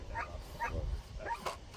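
A puppy gives a few short, soft yips and barks, close by and fairly quiet, spaced across a moment, followed by a sharper noise at the end.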